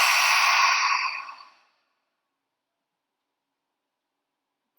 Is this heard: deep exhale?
yes